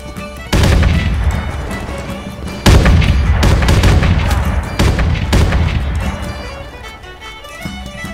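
Heavy bursts of gunfire and booming gunpowder explosions in the video game Mount & Blade II: Bannerlord, loud and dense, with sharp onsets near the start and middle then a rolling barrage that slowly fades.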